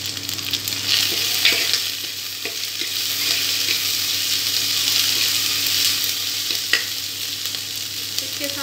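Capsicum and potatoes fry in a pan as tomatoes and green chilies go in for egg biryani, giving a loud, steady sizzle with stirring throughout and no talking.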